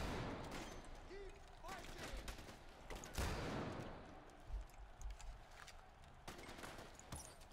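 Gunfire in Far Cry 4, several sharp shots cracking over a steady outdoor game ambience, one strong blast standing out, with players talking over it.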